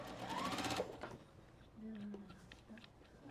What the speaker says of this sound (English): And I'm going to take a stitch.